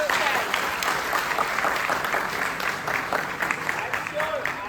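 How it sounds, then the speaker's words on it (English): An audience at a school innovation and leadership talk gives a sustained round of lively clapping. It stays fairly loud and even, with a murmur of voices mixed in. "So applaud to yourself."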